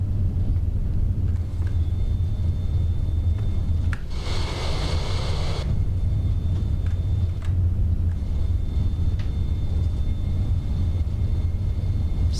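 An easyJet A320 in a flight simulator touches down and rolls out at Brussels, giving a steady, loud, low rumble throughout with a brief hissing swell partway through.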